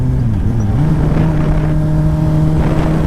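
Turbocharged 300-horsepower Suzuki Hayabusa motorcycle accelerating hard in second gear, a loud continuous engine drone whose pitch dips briefly then holds steady and strong throughout.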